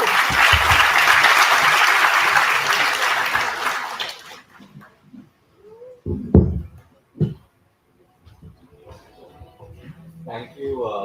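Audience applause at a BBA inauguration event, a dense burst of clapping lasting about four seconds before fading into scattered handling noises and voices speaking.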